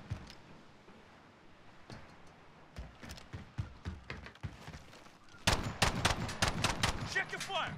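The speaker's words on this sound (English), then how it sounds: "Who's shooting?" Gunfire in Call of Duty Warzone crackles as scattered distant shots at first, then bursts into louder, rapid volleys near the end, with faint voices mixed underneath.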